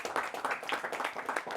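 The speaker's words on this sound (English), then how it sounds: "Give them a round of applause too." A round of applause from the audience for a high school quiz bowl team after a semifinal match, steady dense clapping at moderate distance, fairly soft throughout.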